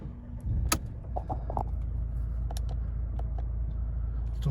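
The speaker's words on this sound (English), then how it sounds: "Start the car up." A Mercedes-Benz E250 CDI AMG Sport with a 2.1-litre diesel engine is started with a brief crank, then settles into a steady, low, rumbling idle heard close by.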